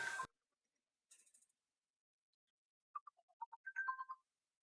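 A phone ringtone plays during a live stream: a faint burst of noise, then short chirpy melodic beeps that rise and repeat near the end, quiet against near silence.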